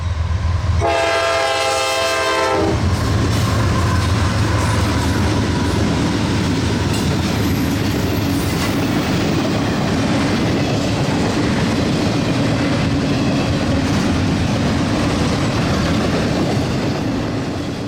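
A loud train horn blasts for about two seconds, then a heavy CSX coal train rumbles and clatters steadily past, close and continuous.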